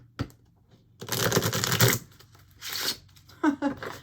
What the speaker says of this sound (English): as I do this, I'm actually being called to shuffle